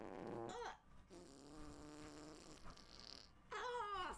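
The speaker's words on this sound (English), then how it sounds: "I can fart. There you go. Farting." A fart blown into a microphone, a short rasping burst near the start followed by a longer buzzing, tonal stretch and another sputtering burst at the end, close and dry.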